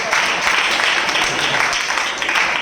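Audience clapping at a church sermon gathering, a dense steady wash of applause lasting a few seconds with voices mixed in.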